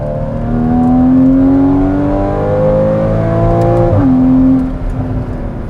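Porsche 981 Cayman with factory sport exhaust pulls hard through the gears, a loud, steady rising engine note with one brief dip mid-rev as the throttle lifts, then climbing again, no talking.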